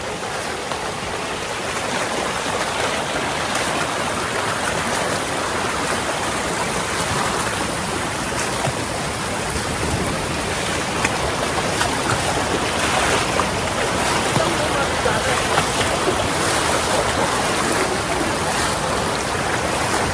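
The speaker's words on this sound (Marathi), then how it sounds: "पाण्याचा खूप फ्लो आहे ना तो फास्ट आहे" Water rushes steadily and loudly, a fast-flowing stream near Bhagirath Waterfall near Mumbai roaring without a break from start to finish.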